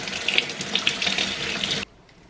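Tap water runs into a kitchen sink while sweet potatoes are washed, a close, steady splashing flow that stops abruptly near the end.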